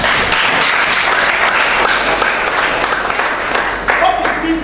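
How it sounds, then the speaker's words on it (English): Audience at a two-day business round-table in Abia State, Nigeria bursting into dense, continuous applause that fills the room, loud and sustained throughout. "I think we should clap fast."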